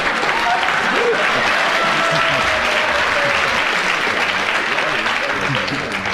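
Studio audience of a radio panel game breaks into sustained applause, steady and dense clapping filling the whole stretch without a break.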